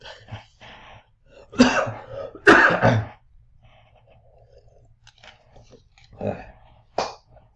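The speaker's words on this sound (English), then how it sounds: "That was a COVID cough, by the way." Several harsh, close coughs come in quick bursts, followed by quieter pauses and a couple more short coughs, loud and nearby.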